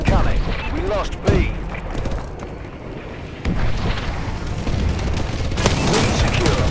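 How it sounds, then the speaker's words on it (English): Call of Duty bombing run, a dense barrage of booming explosions and gunfire rumbling continuously, with game announcer voice lines over the top. "Friendly bombing run incoming."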